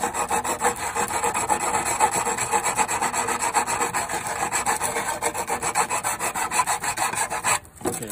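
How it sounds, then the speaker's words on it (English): A piece of aluminum being roughed up and cleaned with steady rapid rasping strokes, close and continuous for several seconds before a brief pause near the end. "first I'm going to clean this piece of aluminum."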